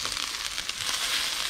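Small crappie fish frying in hot oil in a pot, a steady close sizzle and crackle with no voices.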